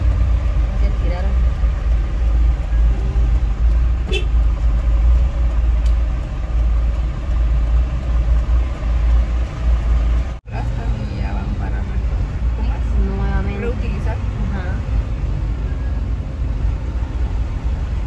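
A car driving along a rough road lane not yet ready for vehicles, its engine rumbling steadily and close throughout, with people talking over it.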